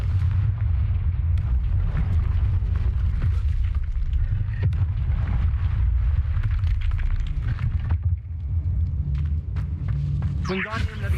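A Confringo explosion spell in the game Hogwarts Legacy, heavy low booming rumbles rolling continuously and loudly, with a speaking voice over them.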